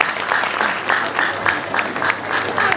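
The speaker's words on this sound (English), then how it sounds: "Let's clap for him again." Loud, close applause from an audience at a student gathering, a continuous crackle of many hands clapping with slight swells in intensity.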